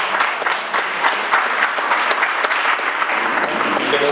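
Strong, sustained applause from an audience at a Lions Club art exhibition event, dense clapping with sharp individual claps standing out throughout.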